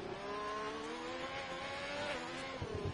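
McLaren race car in a racing video game at Abu Dhabi, its engine a steady, close, high-pitched drone that shifts gear partway through, with a rougher burst at the end and no talk.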